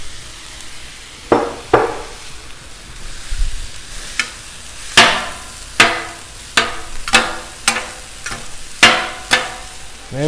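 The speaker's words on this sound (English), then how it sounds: "Now let's get this rice going in with the veggies." Rice and vegetables for beef fried rice cooking on a Blackstone griddle, with a soft sizzle broken by a series of loud metallic spatula scrapes and taps at an uneven rhythm, no talk.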